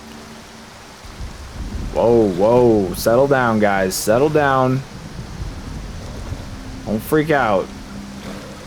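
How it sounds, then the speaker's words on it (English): Heavy rain in the video game Skyrim, heard as a steady, dense hiss of downpour throughout, largely beneath someone talking excitedly over it. "That's some heavy-duty rain."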